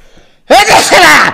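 A single loud, close sneeze bursts out after a brief quiet lead-in, with a sharp breathy onset and a voiced tail.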